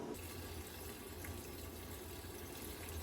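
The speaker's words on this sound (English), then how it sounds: "this is just going to help the older fuel mix with nice fresh Shell V-Power, which is what I'm putting into this now" Shell V-Power fuel being poured into a Morgan Plus 8 sports car, a quiet, steady liquid rush and gurgle with a low hum underneath.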